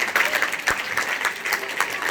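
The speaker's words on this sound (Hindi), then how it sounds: "एक बार सच बोलने के लिए ताली बजा दीजिए।" Loud audience applause in a school hall, a steady wash of many hands clapping at once, close and unbroken, with no talking over it.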